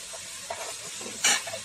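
Dry masala spices for a desi chicken curry sizzle softly in a hot pan with a few stirring scrapes and one brief louder hiss near the end.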